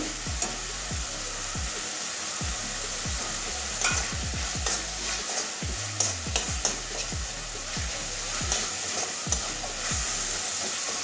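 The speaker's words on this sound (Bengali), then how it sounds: "এবারে ভেজে রাখা চিংড়ি মাছগুলো দিয়ে দিচ্ছি।" Fried prawns and spice paste sizzle steadily in a pan for a thoru dish, with frequent scraping strokes of a spatula stirring the mix, a loud continuous fry under repeated clanks and scrapes.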